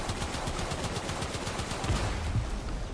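Rapid pistol gunfire from the Warframe video game during an Eidolon hunt, a fast steady stream of sharp shots for about two seconds, then a few heavier thuds.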